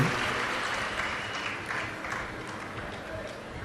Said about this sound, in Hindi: एक बार यजमान परिवार के लिए जोरदार ताली बजाकर स्वागत, वंदन, अभिनंदन।